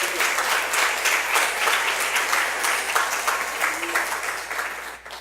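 A church congregation applauds during a morning service, a full, steady wash of many hands clapping at even loudness before tapering off at the end.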